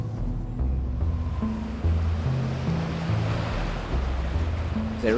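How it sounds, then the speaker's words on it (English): Wind gusting by the sea, with surf washing and rumbling steadily throughout, a close, constant roar of waves and moving air with low buffeting on the microphone. "Quite windy."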